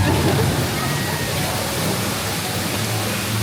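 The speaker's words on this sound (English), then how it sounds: "And look at that beautiful waterfall." The waterfall on the Splash Mountain ride in Tokyo pours in a loud, steady, broadband roar of rushing water that fills the scene from start to finish.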